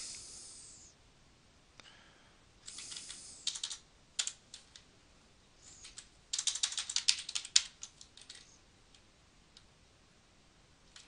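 Computer keyboard typing late at night, coming in scattered bursts of quick clicky keystrokes with short pauses between, close and fairly quiet, with no talking.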